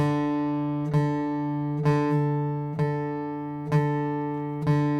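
Two guitar notes ring together as a sustained tone, re-struck about once a second in a steady, even rhythm, with no voices.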